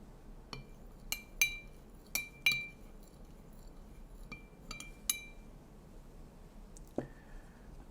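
Spoon stirring a drink in a glass in a quiet room, with a series of bright, sharp clinks spaced irregularly over several seconds and one longer ringing tap near the end.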